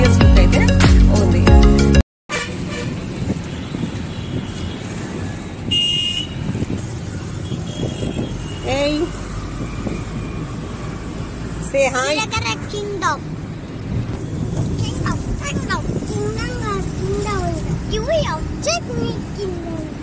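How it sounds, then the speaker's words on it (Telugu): City road traffic with cars and motorcycles passing, steady engine drone and scattered horn toots at moderate distance, with people talking over it and a brief loud burst at the start. "ఎంత ట్రాఫిక్ ఉందంట ఇవాళ"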